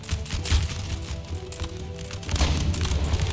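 Distant artillery fire in the Empire: Total War battle, dull low booms rolling under a continuous battlefield din, with a heavier burst of rumbling toward the end.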